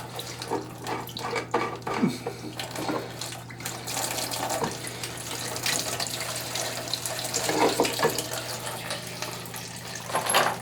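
Water runs steadily out of a clogged kitchen sink, making a continuous splashing rush with small gurgles and drips scattered throughout, heard up close with no talking.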